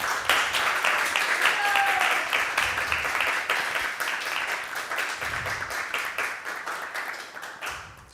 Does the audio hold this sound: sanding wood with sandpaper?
no